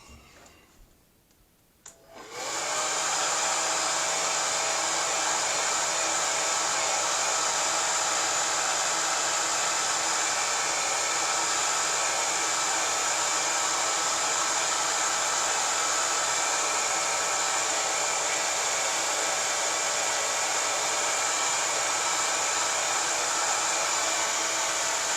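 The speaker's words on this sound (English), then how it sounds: "Hairdryer again, I'm afraid." After a brief click, a hair dryer switches on and blows continuously at close range, a loud steady whirring roar that never lets up.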